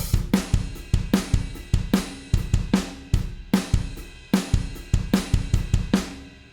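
A programmed emo rock drum groove, built in Superior Drummer: punchy kick and snare hits with crashing cymbals in a steady, driving pattern, loud and alone with no voices.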